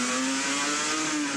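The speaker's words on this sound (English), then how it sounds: "when George does turn on the gas, this thing shoots forward like a rocket" Rally car driven by a world champion accelerating hard, a loud sustained engine roar with a steady rising tone, close and continuous throughout.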